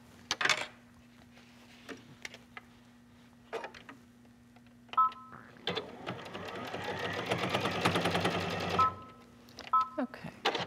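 A sewing machine stitches the seams of a quilted clutch bag in one steady run of several seconds. Short whirs and clicks come before and after it, and quiet steady hums sit under the whole stretch.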